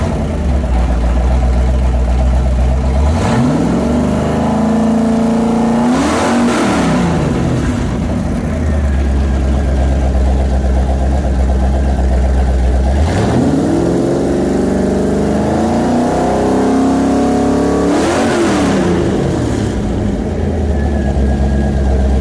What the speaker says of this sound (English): We built you a beautiful 351 Windsor roller cam engine.